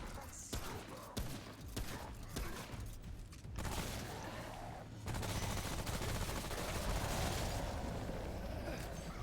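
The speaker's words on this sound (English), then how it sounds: "The hunting rifle and the SMG are a pretty good combo." Gunfire from a hunting rifle and an SMG in Remnant: From the Ashes, with sharp separate shots early and then dense, continuous fire and clatter under game noise.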